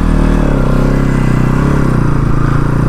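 A 2023 Bajaj Pulsar NS 200 motorcycle engine on a test ride, with a loud, steady droning hum and close engine rumble holding throughout along with wind noise.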